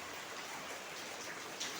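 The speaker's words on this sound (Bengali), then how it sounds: "এই যে দেখেন কিভাবে পানি পড়তেছে ঘরের ভিতরে" Rainwater streams and drips into a ruined room with broken windows during the rainy season, making a constant dense wash of falling water, even and moderately faint.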